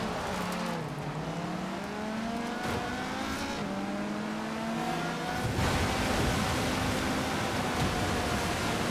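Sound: Volvo 850R car engine in Forza Horizon 4 video game

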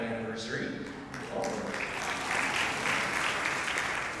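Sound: concert audience applauding

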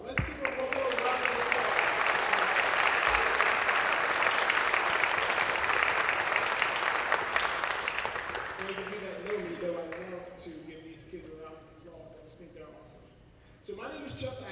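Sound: audience applause at a high school winter instrumental concert

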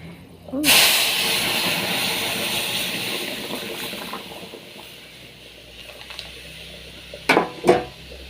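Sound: tempering cooked dal (lentils) with spices in hot oil

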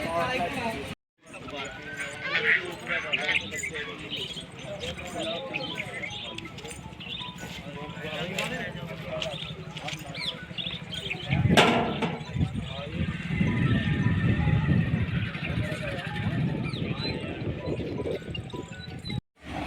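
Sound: horses at a horse fair, hooves and neighing

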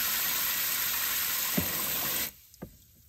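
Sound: water from a hose stirring a crystal-cleaning soak

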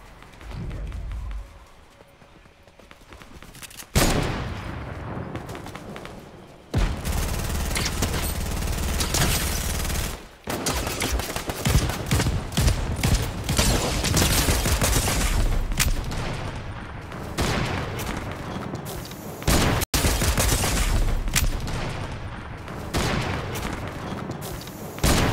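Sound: hand cannon gunfire in Fortnite video game

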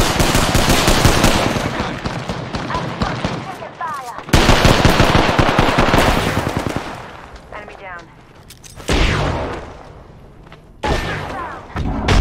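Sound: gunfire in the video game Apex Legends

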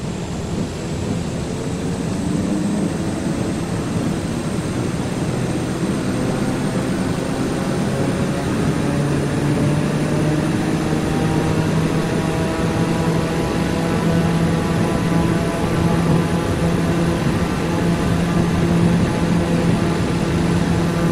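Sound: airliner taking off in the video game Microsoft Flight Simulator 2020

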